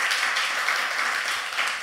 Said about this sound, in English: Let's give the worship team a big hand clap.